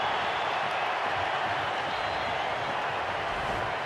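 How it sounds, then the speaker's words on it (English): A big stadium crowd at a Wellington Phoenix v Auckland FC A-League football match roars in a steady, dense wash of cheering and noise that holds level throughout, with no single voice standing out. "Alex Rufa wants some help from the big crowd here"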